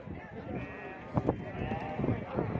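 Sheep bleat at a busy outdoor sheep market selling large rams, with wavering calls over a dense crowd murmur and voices talking nearby.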